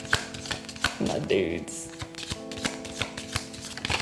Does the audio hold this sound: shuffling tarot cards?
yes